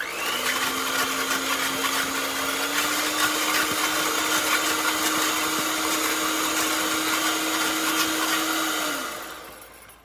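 Electric mixer or blender whipping baby soap into foam, a loud, steady whirring whine held for about nine seconds before winding down, with no talking.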